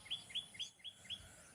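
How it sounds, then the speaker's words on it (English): Five quick, bright, rising chirps from a bird in Sri Lanka, repeated in an even rhythm about four times a second, fairly close and clear over a quiet background. "Lots of beautiful birds here."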